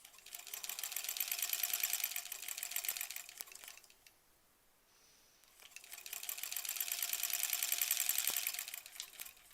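A sewing machine stitches quilt block seams in two rapid, even bursts of needle chatter, pausing briefly in between, fairly quiet and close.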